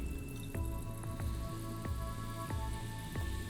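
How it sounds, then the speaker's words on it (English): Soda water is poured into a mojito in a glass, giving soft liquid trickling with a series of distinct clinks or drips spaced roughly every half second over a low background. "we now add soda water up to level"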